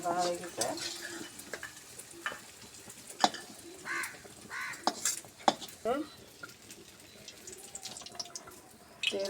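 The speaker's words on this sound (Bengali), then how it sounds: "মরিচ সুন্দর করে বাদামি কালার করে ভাজে নিচ্ছে" Chili peppers with onion and garlic frying in oil until browned, soft intermittent sizzling with scraping stirs, clinks and drips close by, fairly quiet, with a voice talking briefly at times.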